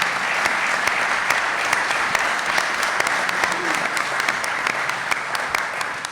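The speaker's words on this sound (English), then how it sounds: "all of these people deserve a round of applause for their commitment to this cause" Steady audience applause fills the room after a mayoral debate, dense and even throughout with no voices rising above it.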